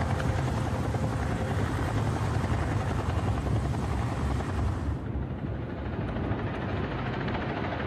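A helicopter taking off from a prison yard produces a loud, close, continuous rotor roar with dense low thumping, which thins slightly near the end.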